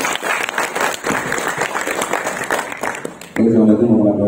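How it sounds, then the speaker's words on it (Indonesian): Audience at a community event in Purwakarta applauds steadily for about three seconds before the clapping cuts off and a voice begins speaking over a hum. "Kasih tepuk tangan buat."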